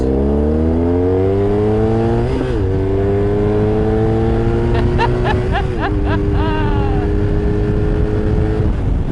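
A BMW R1150R boxer-twin road motorcycle accelerates hard through several gears, its loud, close engine note rising steadily with brief dips at each shift and a throaty exhaust under wind noise.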